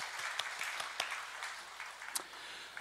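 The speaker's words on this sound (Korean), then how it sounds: "우리 환영의 박수 하겠습니다" Welcoming applause from a church congregation, fairly quiet and distant, with scattered individual claps standing out over a steady patter.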